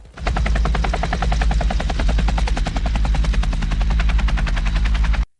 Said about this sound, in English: Before long, a helicopter arrived to pick them up.